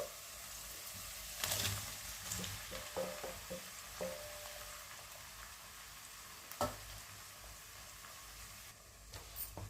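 Chopped tomatoes fry in a pan for a spicy tomato egg fry, a soft, quiet sizzle broken by a few sharp clatters and stirring scrapes, with no talking.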